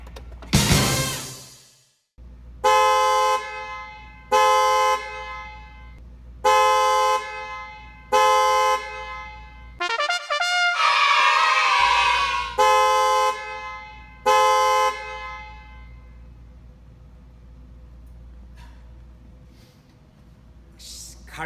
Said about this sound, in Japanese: GM らしいクラクションですね。